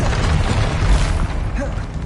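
Explosive blast from the Bombarda spell in the Hogwarts Legacy video game, a dense booming burst that fills the whole clip, loud and close, with no one speaking.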